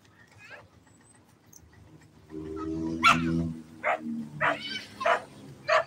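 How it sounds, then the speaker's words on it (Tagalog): Dogs come out at a hacienda and bark in short, loud, close bursts, several sharp barks spaced unevenly after a quieter stretch with a low rumble underneath. "Ayan na, naglabasan ang mga aso."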